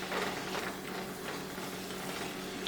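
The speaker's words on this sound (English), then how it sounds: "let's check onion and vegetables, and you can hear how it's sizzling" Onion and vegetables sizzle steadily in a hot pan, a continuous close crackle and hiss with faint stirring clicks, no voices.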